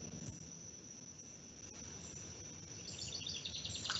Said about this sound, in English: this bird has adapted to be able to sing and overcome the sound of moving water